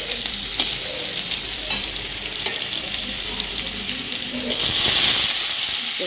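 Garlic tempers in hot oil with a dense, close sizzle and stirring scrapes, and near the end a louder hissing burst of frying takes over.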